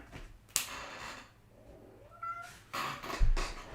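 Cats meow and squabble indoors, with a sharp yowl early on, quieter drawn-out meows in the middle and a louder scuffling burst near the end.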